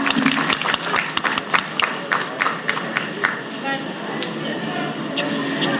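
Audience applause at an award ceremony: a crowd clapping steadily with sharp individual claps standing out, fairly loud and continuous, thinning slightly toward the end, with a host's voice mixed in.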